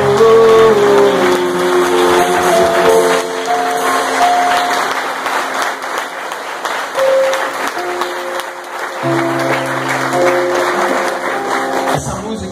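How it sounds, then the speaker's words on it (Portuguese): A church congregation applauds during a worship song: loud, sustained clapping swells over ongoing keyboard-like music, tapering slightly midway, then rising again near the end. "Vamos aplaudir o Senhor."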